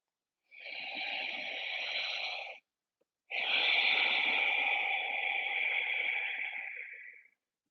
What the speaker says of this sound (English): so that when you inhale and exhale, it now sounds like a deep sort of oceanic sound like this.